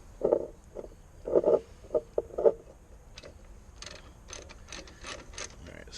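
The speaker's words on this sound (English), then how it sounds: "We got a wrench." A hand wrench ratchets in short clicking bursts while tightening a water pump on a Bobcat T590 skid steer, close and fairly quiet, followed by faster scattered clicks.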